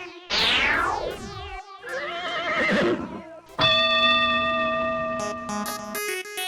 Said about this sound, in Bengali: এই কি হলো? আরে ঘোড়াটা দাঁড়িয়ে রইলো কেন?